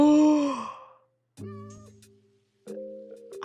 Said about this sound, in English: Oh, hello, village. There's kitties.